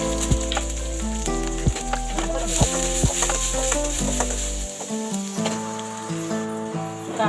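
Onion sautéing in a pan for green tomato chutney, a soft sizzle beneath repeated scraping and clinking of a spoon against the pan, with some steady tonal hum in the background.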